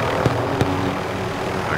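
A video game helicopter's dull engine roar and rotor rumble, steady and fairly loud, with two sharp thumps near the start; no one speaks.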